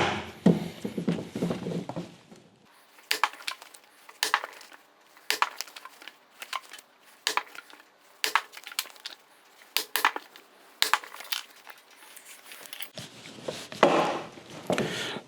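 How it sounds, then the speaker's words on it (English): Clicker press end-punching leather tug straps for a saddle breast collar, giving a series of sharp, evenly spaced thumps and clacks close by, with no talking. "here we're at the clicker, and we're just gonna go ahead and punch both the ends of these"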